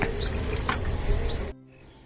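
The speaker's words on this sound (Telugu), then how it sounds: "ఆ పక్షులు మూడు నాలుగు కలిసి తిరుగుతున్నాయి అక్కడ" Small birds give three quick, high chirps in succession, fairly close, over a rough outdoor background before it drops quiet.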